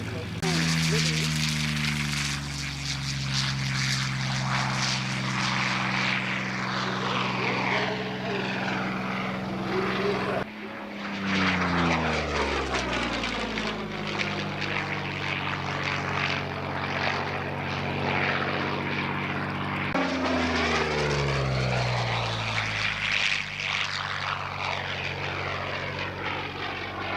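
P-40N Warhawk propeller warplane making a pass at an airshow, a loud droning engine roar with sweeping pitch shifts as it flies by and repeated surges throughout, with an announcer talking over it.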